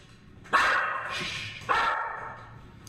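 Two sharp, close barks from a dog ring out about a second apart, each loud and clear against a quiet indoor background.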